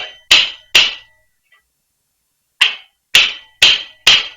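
A chisel struck hard to cut a line in handcrafted work: six sharp, loud, close raps, two in quick succession, a pause of over a second, then four evenly spaced blows.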